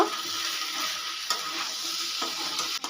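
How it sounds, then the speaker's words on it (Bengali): Spices, ginger-garlic paste and tomato sauté in a pan with a steady close sizzle. A few sharp scraping strokes of a spatula cut through it, with no voices. "মশলাগুলো আরেকবার কষিয়ে নেব"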